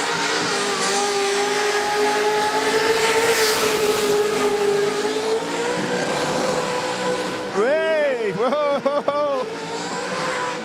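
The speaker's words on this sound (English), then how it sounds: "It's a V8 sound, I know, it's Jambo, but look, it's all about different engine sounds." A V8 car engine roars steadily at a street car event, then revs hard in repeated sharp bursts with tire squeal as it skids, while a man exclaims over it.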